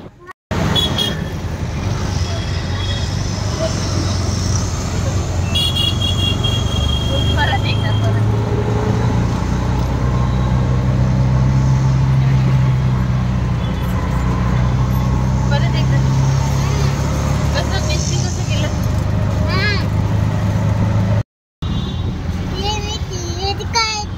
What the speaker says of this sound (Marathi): इकडनं रिक्षा पकडून अंधेरी एअरपोर्टला आता जातोय